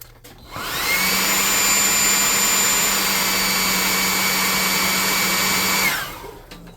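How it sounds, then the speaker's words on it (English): Hot air gun drying paint on a tabletop miniature model, switching on with a rising whine, blowing steadily at a loud, close level with a faint tone, then winding down and cutting off. "I'm going to use my hot air gun"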